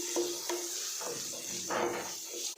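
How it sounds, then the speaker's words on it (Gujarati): Sautéed onions with a pinch of turmeric are stirred in a pan for batata poha: a soft sizzle carries through, broken by several separate scrapes and clinks of a spoon against the pan. "હવે તેની અંદર આપણે પીંચ જેટલી હળદર નાખીશું અને બધું બરાબર મિક્સ કરી લઈશું"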